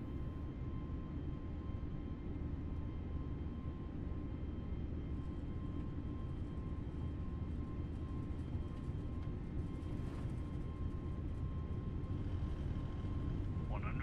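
Airbus A320 engines spooling up on the takeoff roll in a flight simulator, a steady broad low rumble with a faint constant tone above it, holding level throughout.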